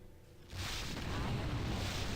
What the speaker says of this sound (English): Now here you might be hearing a loud explosion. That's because of this periodically exploding fireball here in this central room.